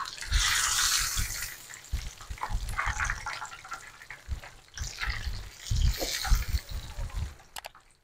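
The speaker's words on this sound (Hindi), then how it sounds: "लो टू मीडियम फ्लेम पे हम इसे 15 से 20 मिनट फ्राई करेंगे।" Zinger chicken deep frying in oil over a low-medium flame, a steady broadband hiss and bubbling with fluctuating intensity, close and moderately loud, with a voice talking over it.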